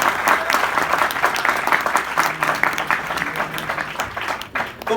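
Audience applause during a comedic motivational talk, dense and sustained clapping from a crowd that holds steady for several seconds with a slight fade near the end.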